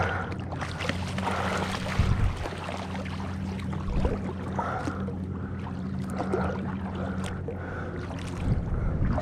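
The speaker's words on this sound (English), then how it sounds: "there's some waves." Water sloshing and lapping against a small kayak at Musgrave Point, with a low steady hum and occasional knocks and splashes over a constant background.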